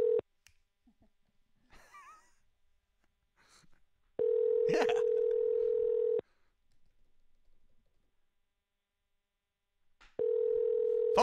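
A telephone dial tone sounds in two steady bursts, the first in the middle and the second at the end, with quiet clicks and faint keypad noises between them in an otherwise hushed room.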